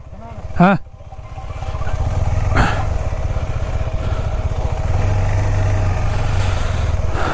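A motorcycle idles nearby in a parking area at Anjanadri, its steady low engine drone running for several seconds after a brief voice near the start.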